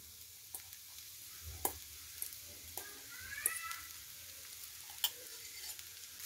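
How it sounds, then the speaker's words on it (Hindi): Cooked quinoa being stirred in a pan for poha: faint, soft scraping and occasional clicks of a spoon over a low, quiet sizzle. "अच्छी तरह से मिक्स करके लगभग 2 मिनट तक पकाएंगे"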